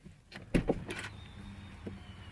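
A 2016 Audi S7 power tilt-telescoping steering wheel motor runs after shutdown, a faint whirring hum following a couple of nearby clunks and clicks inside the quiet cabin.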